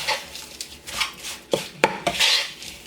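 Guinea pig treat dough is worked in a bowl with a spoon, giving close, repeated scraping and knocking strokes, irregular and fairly loud, with no one talking.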